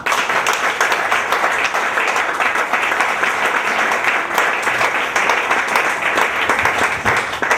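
A church audience gives loud, dense applause to welcome a pastor at an evening event, a continuous roar of many hands clapping at steady strength for several seconds.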